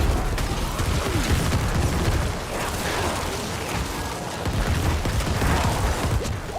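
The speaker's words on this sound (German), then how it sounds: "Achtung, der explodiert." Explosions and combat in the video game Diablo IV make a dense, continuous rumble of blasts and crackling effects at steady loudness throughout.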